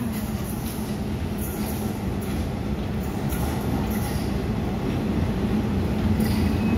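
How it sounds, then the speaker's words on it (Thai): Thai train arriving at a station, a steady loud rumble with faint wheel squeal and track clatter continuing for several seconds, heard alone without talk. "รถไฟมาแล้ว"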